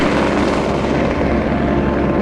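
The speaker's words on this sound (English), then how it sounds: "As soon as the weather got better, multiple helicopters arrived." Helicopters arriving in the Annapurna mountains of Nepal during the monsoon, a loud, steady rotor and engine roar that fills the whole stretch without pause, close and dominant with no voices.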